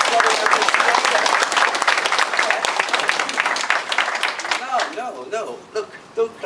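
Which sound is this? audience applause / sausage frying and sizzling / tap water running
audience applause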